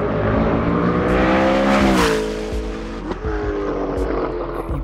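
Hennessey Venom F5 American muscle hypercar engine heard from inside the cabin, a loud, steady, deep drone with rising and falling revs, continuous and close.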